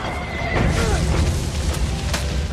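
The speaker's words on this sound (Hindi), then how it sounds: "अगले ही पल लियो अपने घोड़े के साथ हजारों फीट नीचे जा गिरा।" A horse whinnies loudly as it plunges into a ravine in a film scene, a sharp neigh followed by rumbling thuds and dramatic noise, close and intense over a short burst.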